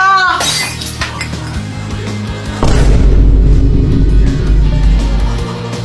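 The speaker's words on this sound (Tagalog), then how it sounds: "Nabasag mo yung base ni Mama!" A glass vase shatters at home with a sharp crash followed by tinkling fragments, then a loud booming impact and heavy low rumble take over, all close and forceful.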